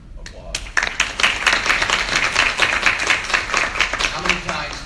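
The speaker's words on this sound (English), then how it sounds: "that deserves a round of applause." Audience applause, a dense burst of clapping that starts suddenly and carries on steadily for several seconds, fairly loud and close.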